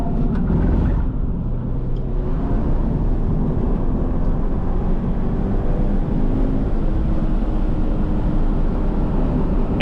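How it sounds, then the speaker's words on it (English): A 2014 Subaru BRZ with its 200 hp 2-liter flat-four strains hard on a racetrack, a loud, continuous engine drone heard from inside the car, steady and close throughout. "That little 200 horsepower flat 4, 2-liter engine, really working hard"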